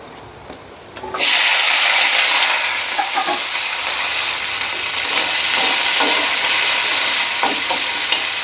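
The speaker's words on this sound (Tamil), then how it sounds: "இப்போ கட் பண்ணி வச்சுருக்கிற வெங்காயம், பச்சை மிளகா, கருவேப்பிலை எல்லாத்தையும் எண்ணெயில் சேர்த்துக்கலாம்." Onion, green chili and curry leaves drop into hot oil for a kilangaa fish curry, bursting into a loud, close, continuous sizzle with faint stirring taps beneath it.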